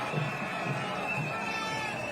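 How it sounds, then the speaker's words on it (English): Roadside crowds cheer at a cycling race in Rwanda, a distant continuous murmur of spectators with scattered shouts, fairly faint and steady. "as the crowds get bigger at the side of the road"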